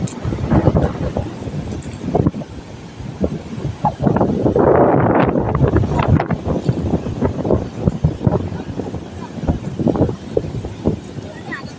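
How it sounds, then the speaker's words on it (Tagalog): Strong wind buffets the microphone with loud rumbling gusts, while people talk intermittently underneath. "Nakakabingi ang hangin."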